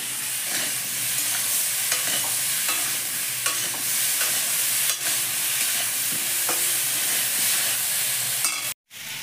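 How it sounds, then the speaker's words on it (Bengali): Spices with salt and turmeric fry in a pan, giving a loud, steady sizzle and hiss that runs almost unbroken, with faint stirring scrapes and a short break near the end; no one speaks. "পরিমাণ মতন লবণ আর একটু হলুদ দিয়ে আর কিছুক্ষণ ভাজবো"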